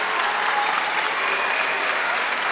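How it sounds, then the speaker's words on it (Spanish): The crowd in the stands at an amateur boxing event applauds both fighters after the bout, a dense, continuous roar of clapping that holds at an even level throughout. "El aplauso de la tribuna para ambas competidoras que hicieron una buena pelea."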